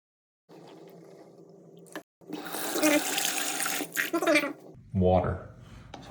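Hot water rushes from a kitchen sink faucet in steady bursts with brief pauses, splashing moderately loud, while people speak over it.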